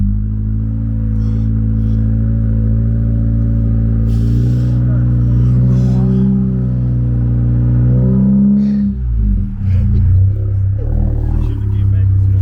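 A second-generation Toyota Highlander's engine hums steadily up close, swelling into a brief throttle rise partway through before settling into a rougher, lower rumble.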